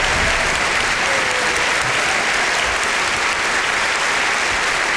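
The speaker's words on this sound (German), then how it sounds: "Und natürlich auch nochmal einen Applaus für das Orchester und die Tänzer hier" Loud, sustained audience applause for an orchestra and dancers of the Komische Oper Berlin at the Teddy Award ceremony 2015, dense even clapping filling the hall without pause.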